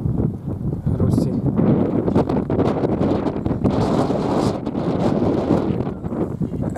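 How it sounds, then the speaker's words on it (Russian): Strong wind buffets the microphone outdoors, producing a loud, continuous rumbling roar with rapid gusty fluctuations, while people talk underneath. "Ветер очень хороший."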